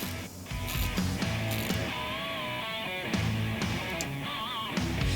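Ratchet clicking steadily as it tightens the fastener on a Honda CR-V battery terminal, a dense close run of rapid mechanical ticks with faint creaks, heard alone without speech.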